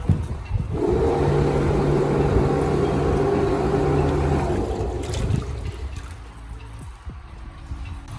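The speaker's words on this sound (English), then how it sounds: "Okay, thrusting to starboard. Okay, let's thrust back to port." Vetus bow thruster on a 1988 Hatteras 65C yacht, a steady loud whirring hum with churning water for several seconds, then winding down to a lower drone.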